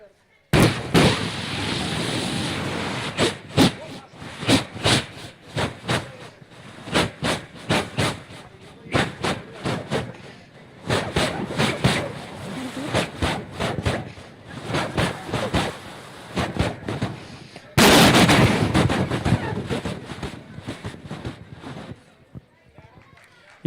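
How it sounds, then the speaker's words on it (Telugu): Two trains pulling out of a station from separate platforms, one slow and one fast, as a steady chugging rhythm with bursts of hiss and a sharp loud blast near the end. "ఒక స్టేషన్ నుండి రెండు ట్రైన్స్ డిఫరెంట్ ప్లాట్ఫామ్స్ నుండి వెళ్తున్నప్పుడు ఒక ట్రైన్ స్లోగా వెళ్తుంది"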